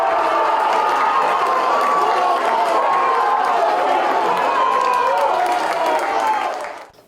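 A football crowd roars and cheers after an equalizing goal in a Rio Claro match, a loud, sustained mass of shouting voices that holds for several seconds before cutting off abruptly.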